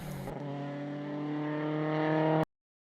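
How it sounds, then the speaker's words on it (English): Rotary-engined rally car passing during a New Zealand rally, a smooth high-pitched engine whine holding a steady harmonic tone that builds in loudness before cutting off abruptly. "Passed by a rotary too"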